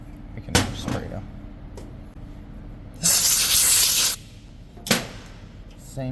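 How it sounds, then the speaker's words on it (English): Aerosol cleaner sprays through a Honda GX160/GX200 small-engine carburetor in one loud, steady hiss lasting about a second, with shorter spray bursts before and after. "We can spray it out."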